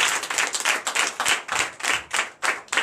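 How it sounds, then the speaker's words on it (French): A church congregation at a Sunday worship service in Comè, Benin claps loudly in quick, uneven rhythmic bursts, close and full, with no voices over it. "Que je vous demande d'applaudir très très fort l'Éternel."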